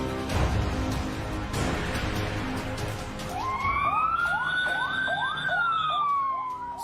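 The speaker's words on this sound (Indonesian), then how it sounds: "Suara sirine ambulans itu meraung-raung bagai jeritan kehilangan dan ratap tangis yang memecah keheningan malam" An ambulance siren begins wailing partway through, its pitch sweeping up and down over a steady background rumble.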